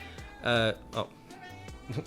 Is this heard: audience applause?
no